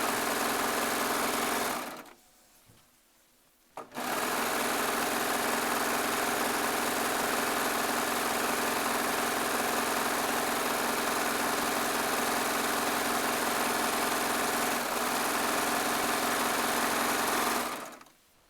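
A serger stitching charm squares with a quarter-inch seam runs as a steady, fast mechanical whir, briefly stops near the start, then hums on continuously before halting at the end, with no talk.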